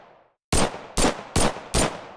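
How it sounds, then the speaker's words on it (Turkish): Four loud, close bursts of gunfire from the TX-02 light machine gun in the Glory Frontline video game, evenly spaced about every half second after a brief faint lead-in, with no talk. "TX-02 hafif makineli tüfek seviye 4 ses efekti."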